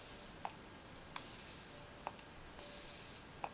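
Flower Beauty Seal the Deal Hydrating Setting Spray mists in two soft, airy hissing bursts, each about half a second long, each followed by a light plastic click of the pump, close and fairly quiet.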